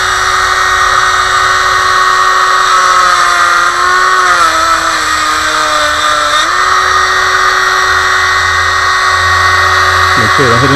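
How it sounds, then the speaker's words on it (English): A Dremel rotary tool set to medium speed cuts into a plastic vacuum line on a Mercedes SL500. It gives a loud, steady high whine that dips briefly in pitch under load partway through, runs for the whole stretch, and has no talk over it. "I'm going to see if I'm going to Dremel the corners and try and get in there just to break it out"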